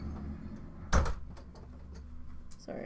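A house door opens indoors with a single sharp knock-like bang, followed by quieter shuffling and a soft thump.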